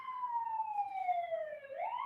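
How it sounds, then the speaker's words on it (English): A wailing siren sweeps steadily downward, then rises again, fairly distant and continuous with no talking. "And now I'm having sirens."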